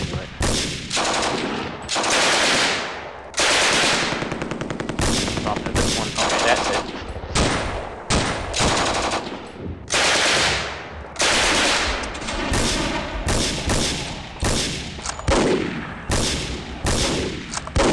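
Heavy machine gun fire in the wargame Steel Panthers, repeated loud bursts of rapid gunfire separated by short pauses, dense and close, with no talk over it.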